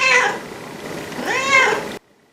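A cat meows twice in an indoor room, two drawn-out rising-falling cries about a second apart, fairly close and clear, then the sound cuts to near silence.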